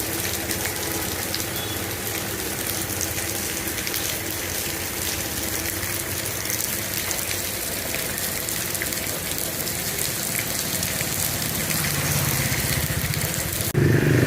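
Steady rain falls on a street in the West Lake neighborhood of Hanoi, a continuous dense hiss of water with a faint engine rumble underneath. It grows slightly louder toward the end.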